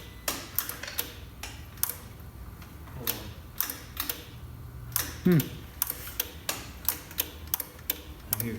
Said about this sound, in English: Clicking in the fuse box there.